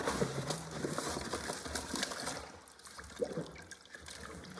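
Fabric being pushed into a basin of hot water to soak for washing, with close, steady sloshing and trickling of water and no voices.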